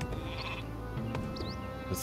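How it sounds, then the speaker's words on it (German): Sheep bleating in the strategy game Northgard, short bleats over game sounds and background music, with a bird-like chirp partway through. "Schaf."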